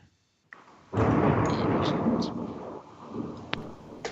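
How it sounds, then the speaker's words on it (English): Thunder from a heavy storm rolls in as a loud, sustained rumble after a short quiet start, dense low roar with a few sharper cracks, close and filling the whole clip. "We have a heavy storm going over here."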